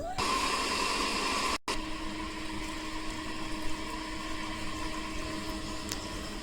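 Water pump pushing water through a buried underground line, a steady broadband rushing hum with a faint tonal whine, continuous and fairly close, with a brief dropout early on and no talking.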